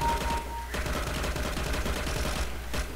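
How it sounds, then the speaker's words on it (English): Rapid bursts of gunfire from a shooter video game crackle loudly and continuously, with short rhythmic reports packed closely together across the whole stretch. "I should just be burst firing"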